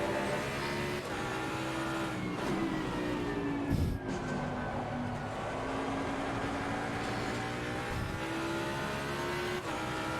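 In Assetto Corsa Competizione career mode, a race car engine drones loudly and continuously, its pitch rising and falling through gear changes and corners with no talk.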